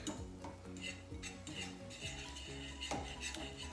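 Onions sautéing in butter, a soft sizzle under steady stirring and clinks of a utensil against the pan, faint and close, with a tonal background hum and no speech.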